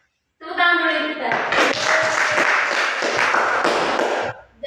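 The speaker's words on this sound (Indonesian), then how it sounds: "Tepuk tangan dulu kita." A school class claps hands together in a lively, fairly close round that begins after a brief spoken line and then cuts off sharply.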